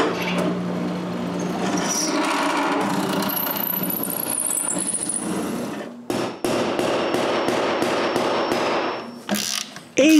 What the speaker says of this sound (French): Percer.